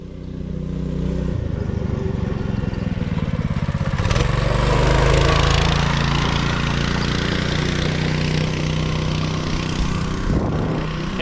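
A small go-kart engine starts up and settles into a loud, steady running drone close by, with a surge of revving partway through and an uneven buzzing rhythm.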